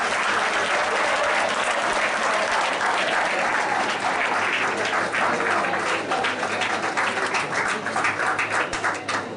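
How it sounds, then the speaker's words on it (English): An audience claps for a lecturer after a talk at a conference session, a loud sustained wash of applause with scattered sharper individual claps, no talking over it. "please do clapping for the sir for the wonderful lecture"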